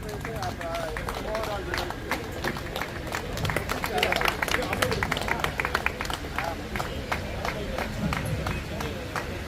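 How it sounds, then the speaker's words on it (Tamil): An audience at a gym competition applauds a prize winner with dense, sustained clapping that swells in the middle, mixed with a low murmur of crowd voices. "மிகுந்த கரகோஷத்தை எழுப்பி அவரை உற்சாகப்படுத்துமாறு கேட்டுக்கொள்கிறோம்."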